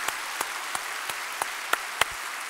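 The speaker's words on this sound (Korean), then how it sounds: "환영의 박수 하겠습니다" At a Korean church's Sunday worship, a missionary family is welcomed with sparse, evenly spaced claps that land about three times a second and sound fairly soft.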